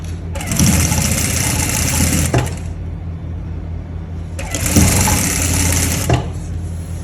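Sewing machine stitching a kurti seam in two loud, rapid bursts of chattering needle strokes, separated by a quieter pause with a low hum underneath, close up.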